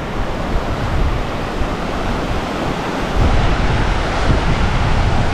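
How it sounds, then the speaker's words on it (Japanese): A waterfall on a mountain stream roars as a dense, continuous rush of water, loud and close, with broadband noise swelling slightly in the latter half. "これが鼻毛の滝。 すげえ、名前と裏腹にめっちゃ綺麗だな。"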